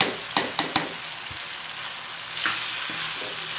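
Chowmein and scrambled egg are tossed and stirred in a hot frying pan, a steady sizzle broken by a few sharp utensil clacks early on and scraping stirs later, close up with no talking.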